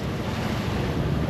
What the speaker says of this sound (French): Là, face au vent, avec des vagues comme ça.